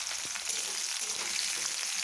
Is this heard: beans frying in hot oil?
yes